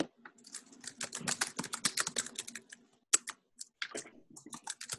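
Typing on a computer keyboard during an online planning meeting, a close, quick run of uneven key clicks in bursts with brief pauses, fairly loud and with no talking over it.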